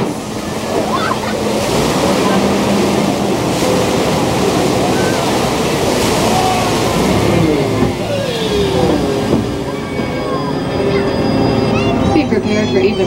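Rushing, splashing water surges around a Universal Studios tram as it passes through a parted Red Sea effect, a loud continuous roar with a vehicle rumbling underneath and a guide's amplified voice faintly mixed in.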